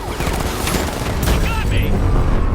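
Sustained automatic gunfire in a Batman video game, dense and loud throughout with booming shots and a shouted voice under the barrage.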